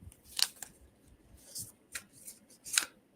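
Sacred Traveler oracle card deck being shuffled by hand, several short crisp papery riffles and flicks, close and faint, spaced irregularly across a few seconds.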